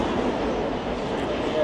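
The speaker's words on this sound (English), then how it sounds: "As the train goes by in the background, can you see the train?" A train rolls past in the background at a retail event in Russia, a steady broadband rumble with a faint rail clatter, heard continuously at moderate distance beneath ambient crowd noise.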